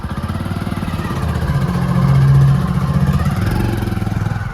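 A motorbike engine hums steadily while riding through a narrow lane, swelling briefly louder in the middle before settling back to an even drone.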